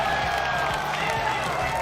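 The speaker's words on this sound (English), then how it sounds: "Crowd goes wild, and how could they not?" Crowd at a televised poker tournament cheering and applauding after a big hand, a dense, steady roar of voices and clapping that holds throughout.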